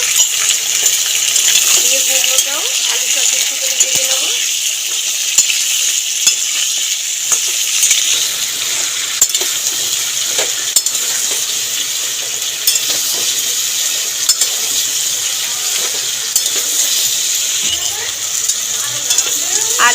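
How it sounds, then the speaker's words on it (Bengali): Potato and pumpkin pieces frying with whole spices in a pan, a continuous close sizzle with scraping and clinking as the spatula stirs, steady for the whole stretch. "আলু আর কুমড়োটা ভালো করে ভেজে নিয়েছি ফোড়ন দিয়ে"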